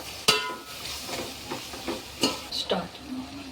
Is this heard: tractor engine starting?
no